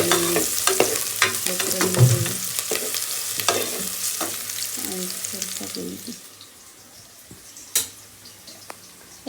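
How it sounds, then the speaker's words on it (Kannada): Tempering spices sizzle loudly in a hot pan for chicken sambar, with stirring clinks; the crackle gradually settles to a softer hiss. "ಒಗ್ಗರಣೆ ಹಾಕಿದ್ದೀನಿ."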